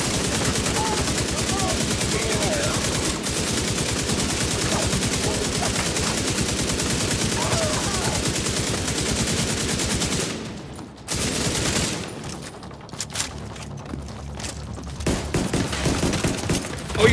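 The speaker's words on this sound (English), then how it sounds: "When in doubt, just keep shooting a bitch." Gunfire in The Division 2 rattles loud and nearly nonstop in dense bursts, breaks off briefly partway through, then resumes more raggedly, with a voice talking over it at times.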